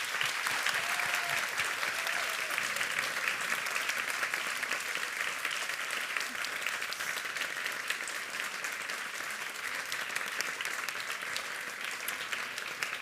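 An audience at a grand finals ceremony for an urban greenhouse challenge applauds the finalists, a long, even spread of clapping that stays steady and moderately distant throughout.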